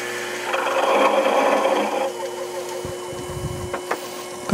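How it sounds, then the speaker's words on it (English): A metal lathe grinds and rasps steadily as a drill bit running off center cuts, with a rough, shaking vibration and faint clattering toward the end. "we're getting quite a bit of shaking in the drill bit now."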